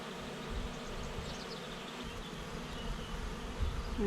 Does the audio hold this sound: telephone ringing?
no